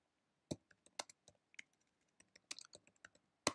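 Keys clack on a computer keyboard as a command is typed into Windows 10, a sparse run of quiet, irregular clicks with short pauses between them and no voice.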